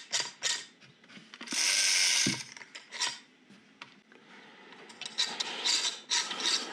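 A homemade coat hanger automaton whirs and rasps as its pulley mechanism spins, with scraping, ratcheting bursts at close range that surge loudly in the middle and recur in uneven clusters.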